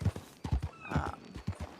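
A horse in the Red Dead Online video game clip-clops with quick hoof beats and lets out a short neigh midway, close and clear, with no talking.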